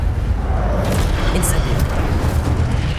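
A fire spell cast in the video game Hogwarts Legacy, a steady roaring whoosh of flame that stays loud and dense for the whole few seconds.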